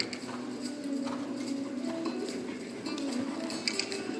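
Horse hooves clip-clopping in a steady rhythm during a vaulting warm-up, with mechanical ticking and a busy arena background throughout.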